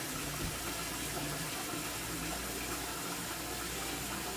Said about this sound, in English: We're just gonna turn it on, fill it up with water.